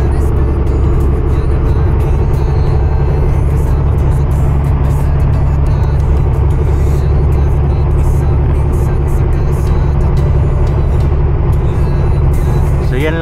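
A loaded truck cruising on a flat highway at around 105, the engine giving a loud, steady low drone with road rumble that runs unbroken throughout, plus a brief hiss near the end.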